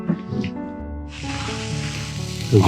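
Beef sizzles and crackles over a wood fire, a steady hissing spitting that grows louder partway through, with some clattering at the start and end.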